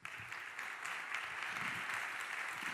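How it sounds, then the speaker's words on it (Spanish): Audience applause at a panel debate following a documentary, a steady sustained clapping from a crowd that fills the room evenly for the whole stretch. "Le damos un aplauso."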